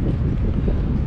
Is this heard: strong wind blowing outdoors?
yes